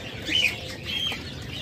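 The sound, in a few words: caged birds calling, king quail and diamond doves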